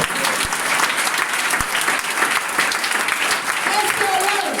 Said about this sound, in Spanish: un fuerte aplauso porque te parece a Cristo.